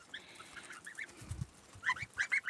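Goslings feed, giving high, thin peeps and chirps with soft, low pecking bumps, close and fairly quiet, gathering into a busier run of calls near the end.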